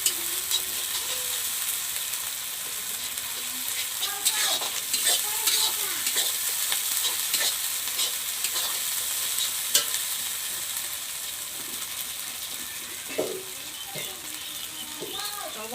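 White mustard paste sizzling in hot oil in a pan while being stirred, for a village-style rohu fish curry: a steady, close frying hiss with scraping stir strokes throughout and no talk.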